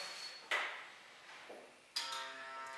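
Poly-Control Z-Wave door lock as the door is opened: a sharp mechanical clack near half a second, a faint knock, then a second bright metallic clunk with ringing tail at about two seconds, close and moderately quiet.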